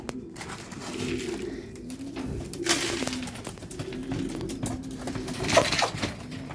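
Racing pigeons cooing steadily at close range while being fed a flier seed mix, with soft overlapping coos and a brief louder flurry of activity near the end; no talking.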